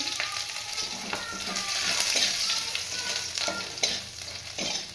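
Chopped garlic frying in a pan with green chillies, a loud close sizzle broken by the knock and scrape of a spatula being stirred through it, with no voices.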